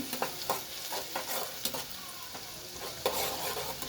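Onions for egg pulusu fry in hot oil and are stirred until reddened, giving a loud close sizzle broken by repeated spatula scrapes and taps, with no one speaking.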